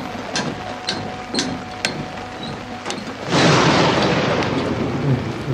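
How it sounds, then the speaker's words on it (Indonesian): Thunder in the horror video game Outlast: a few sharp crackles, then a loud broad rumble rolls in and sustains to the end. "Petir."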